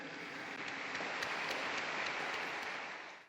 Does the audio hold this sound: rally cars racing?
no